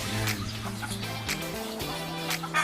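A Henny Gold hen, bred from a dark Henny and a gold hen, clucks in short repeated bursts, close and fairly quiet, with other fowl faintly around.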